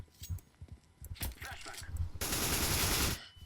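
Rapid automatic gunfire from a teammate in CS:GO rattles in bursts, swelling into a sustained dense volley near the end, with a voice speaking beneath it.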